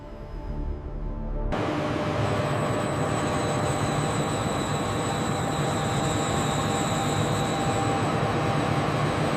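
The Shanghai Transrapid maglev train passes close by in a steady, loud rushing roar with a high whine on top, continuous after a sudden onset.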